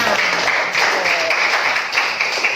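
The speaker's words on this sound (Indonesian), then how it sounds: "beri tepuk tangan dulu untuk kelompok 6" A classroom gives applause to a student group, a short, steady wash of clapping from many hands throughout, moderately loud and fairly even.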